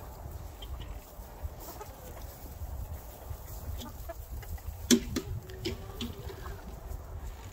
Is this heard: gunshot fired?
no